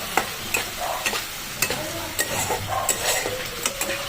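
Tomato paste stirred and fried in a pan for an echor chingri curry, a steady sizzle under repeated sharp clacks of a spatula against the pan at an irregular rhythm, close and with no talk.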